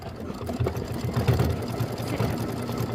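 An embroidery machine stitching out a Kimberbell mini quilt block design, a close, steady rapid mechanical whirring and needle thrum running continuously throughout.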